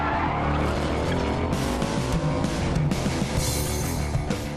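A test car spins out on a race track, engine roaring loudly with continuous tire squeal and skidding across the whole stretch, a voice faintly underneath.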